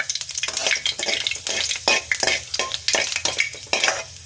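Cumin and fenugreek seeds fry in hot oil with a close, crackling sizzle, broken up by repeated scraping strokes of a spoon stirring in the pan.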